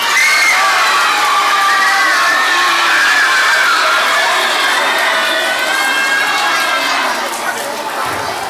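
A school assembly crowd of students at a Student of the Month event erupts in loud, sustained cheering and shouting, with applause mixed into the near, continuous roar of children's voices.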